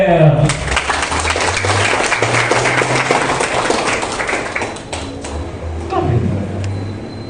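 Applause from an audience at a university rector's speech, a busy crowd of clapping that swells and dips, with talk and some low rumble mixed in near the end.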